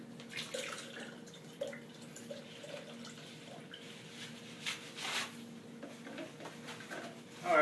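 Drinks being poured into glasses, heard as soft, faint liquid splashing and trickling over a low background hum, with no talking.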